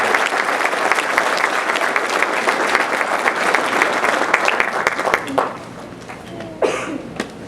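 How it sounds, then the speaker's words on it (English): An audience at a high school senior honors night breaks into sustained applause, a dense wash of clapping that carries steadily, then thins out near the end as a few last claps and a voice come through. "Let's give a big round of applause to our gold corner recipient and the valedictorian and salutatorian of the class."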